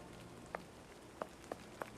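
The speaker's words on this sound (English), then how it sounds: "Look at the rain." Soft, steady rain falls in the Sherlock Holmes Versus Arsene Lupin video game, a faint continuous patter with a few sharper drops landing at scattered moments.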